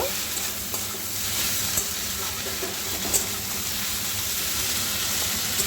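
Boiled, drained drumstick greens are stirred and fried in a pan, giving a steady, close hiss of sizzling oil with soft scraping from the stirring throughout.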